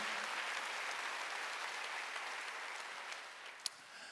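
A congregation claps during a Wednesday church service, a soft continuous wash of applause heard at a distance and fairly faint throughout, with one sharper clap standing out near the end.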